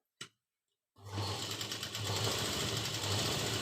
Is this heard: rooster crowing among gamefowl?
no